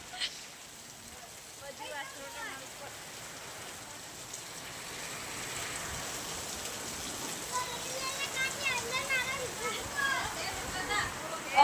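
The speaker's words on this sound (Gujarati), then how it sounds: "જોરદાર વરસાદ આવો પલળી રહ્યો." Heavy rain falls as a soft, fairly distant patter under children's and adults' voices, the wash of rain swelling slightly toward the end.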